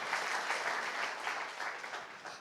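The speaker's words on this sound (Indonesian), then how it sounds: "Tepuk tangan yang meriah buat Allah kita." A church congregation at a Good Friday service in Solo bursts into sustained applause, a dense, even patter of many hands that tapers slightly toward the end.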